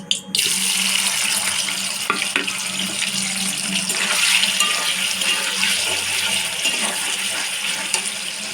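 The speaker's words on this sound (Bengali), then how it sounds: "এইভাবে এই পনিরগুলো ভেজে নেবো" A batch of paneer frying in hot oil makes a loud, continuous close sizzle with scattered crackles and light clinks, and no voices can be heard.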